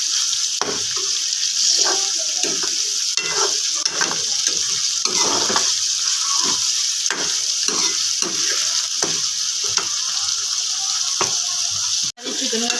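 Chicken pieces brown with onions in a pan, a continuous loud sizzle with repeated scraping and stirring knocks, close up, with a brief quiet gap near the end.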